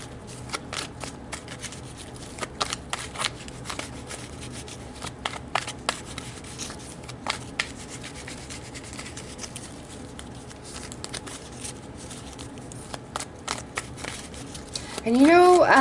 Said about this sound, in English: let's pull your tarot cards for the week, Scorpio